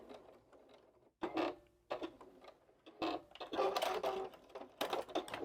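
A sewing machine runs a back stitch at the edge of a small fabric glasses case, in short rapid mechanical bursts separated by brief pauses, close and clear.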